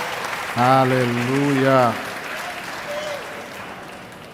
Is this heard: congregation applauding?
yes